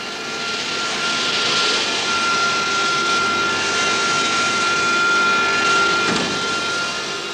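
A fighter jet's engine roars steadily and loudly, a broad rushing din carrying a sustained high whine, unbroken for several seconds with no voices.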